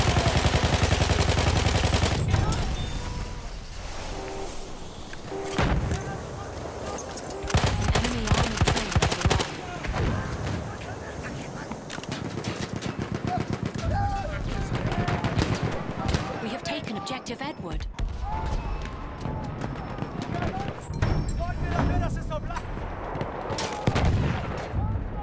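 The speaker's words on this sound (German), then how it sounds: "Maschinengewehr!" Battlefield 1 multiplayer trench combat erupts with rapid machine gun bursts and scattered rifle shots, loud and close, mixed with distant booms and shouted voices throughout.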